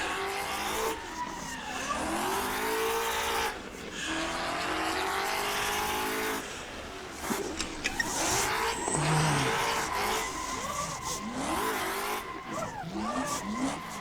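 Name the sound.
car drifting with tire squeal in a video game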